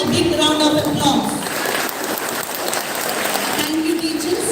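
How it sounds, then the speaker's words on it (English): An audience claps steadily after a students' dance performance at a school teacher's farewell programme, with an even, continuous patter lasting several seconds and a speaking voice heard at the start and end. "Let's give them a big round of applause."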